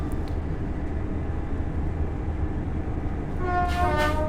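A Class 801 train on the East Coast Main Line from Harrogate to London King's Cross in a train simulator game rumbles steadily at low volume, then a two-tone horn sounds near the end.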